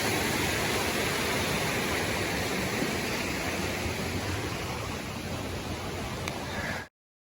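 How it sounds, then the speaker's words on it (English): A creek below a footbridge on the Appalachian Trail rushes as a constant broadband hiss, loud and unbroken, before cutting off abruptly. "You can hear the creek down below us."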